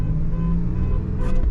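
A 2nd generation Toyota 4Runner drives through a residential neighborhood, its engine giving a steady low rumble and road hum from inside the cabin, with no talking.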